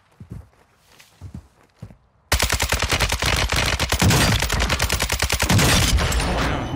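Rapid gunfire from akimbo Basilisk snakeshot pistols in Warzone 2, starting abruptly after quiet footsteps and continuing as a dense, loud stream of shots in close succession.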